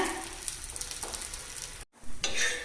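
Aval adai, a flattened-rice breakfast cake, frying in a pan with ghee, a soft steady sizzle with faint stirring scrapes, a brief cut of silence, then the sizzle rising again.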